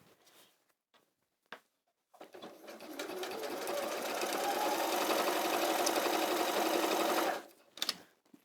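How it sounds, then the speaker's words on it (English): A sewing machine stitches around the edge of a fabric bag through several layers, giving a steady fast whirring rattle for about five seconds, framed by a few brief clicks before and after. "So let's sew all the way around the edge."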